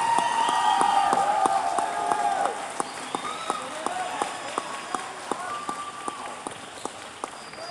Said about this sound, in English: If you could just give them a round of applause.